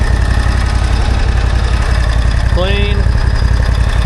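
A dune buggy engine idles steadily after starting on a spring day, a low continuous rumble throughout, with a brief voice speaking over it partway.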